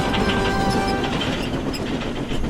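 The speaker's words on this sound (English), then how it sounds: "The train sailed over the top and down the other side." A train rumbles steadily over a hill with a continuous rolling clatter of wheels and a faint high squeal, loud and close with no pauses.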